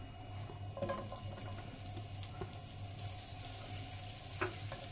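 Chicken and sliced sausage sizzle in melted butter in a pan, a steady crackle with occasional louder pops and stirring scrapes, close and alone without talk.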